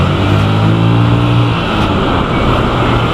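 A Honda Click scooter fitted with a JVT titanium CVT set accelerates, its engine droning loud and close in a steady, rising pull with no voices over it.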